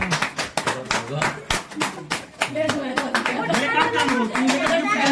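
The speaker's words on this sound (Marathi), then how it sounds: "बरं चला, आईचं चला टाळ्या वाजवा." A small gathering at a family anniversary celebration claps in uneven, separate bursts that become denser toward the end, with voices chattering over the claps.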